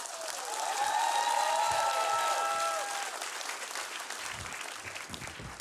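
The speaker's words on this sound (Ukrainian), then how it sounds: "Ваші оплески, друзі." A theatre audience at a comedy show breaks into sustained applause, loud and dense at first and then slowly thinning out, with no voices over it.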